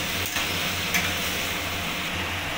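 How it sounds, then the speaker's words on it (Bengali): Hilsa fish head is stirred in a pan with salt, turmeric and cumin, giving a steady, close sizzle and scraping stir with no talk. "এগুলোকে আমি নাড়িয়ে নেব ভালোভাবে"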